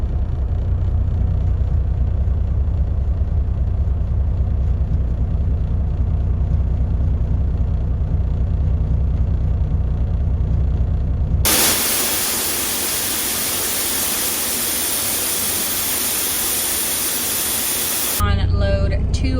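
A hauling truck's engine rumbles steadily and loudly while driving out for a load, then gives way to a stretch of harsh broadband hiss before the rumble briefly returns.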